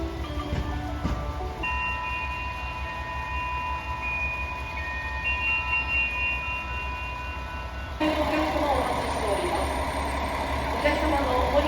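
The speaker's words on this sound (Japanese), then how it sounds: "降りしきる雪の中、富山行きの電車がやってきました。" A train bound for Toyama pulls into a station in falling snow, a steady low rumble with a faint whining tone, swelling into louder, brighter rolling noise as it arrives.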